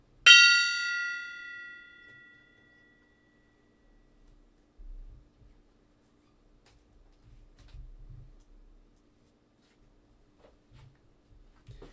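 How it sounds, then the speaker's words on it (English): One bright gong strike opens a baseball card break, ringing out loudly and fading over about two seconds, followed by quiet stretches with faint low handling thumps and rustles. "quick gong hits"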